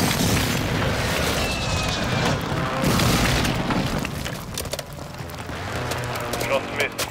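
Artillery strikes in a military shooter game land with heavy, rumbling booms, a broad blast near the start followed by further explosions and crackling debris, while players talk throughout.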